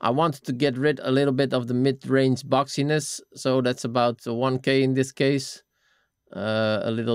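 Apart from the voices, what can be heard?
None of the usual background noises is heard.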